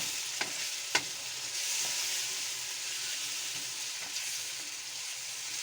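Vegetables for vegetable pulao sizzle steadily in a hot pan, with a few sharp spoon clicks and scraping stirs over the continuous frying hiss.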